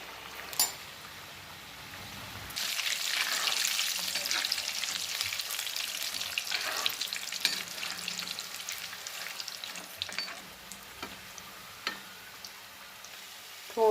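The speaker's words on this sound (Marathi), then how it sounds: "म्हणून एकदम स्लो गॅसवरतीच तळायचं आहे आपण ते" Khaje pastries drop into oil on a low flame and fry with a sudden rise into a dense, steady crackling sizzle that carries on with small pops.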